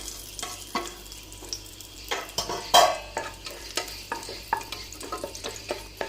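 Whole spices for beef biryani hit hot oil and give off a soft sizzle, with repeated rhythmic clinks and scrapes from a stirring utensil against the pan. No voices are heard.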